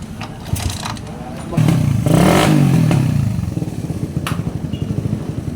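A very noisy Suzuki Ranger motorcycle engine with a carburetor problem, running close by with a rough, clattering idle that revs up sharply, then settles into a choppy, pulsing run.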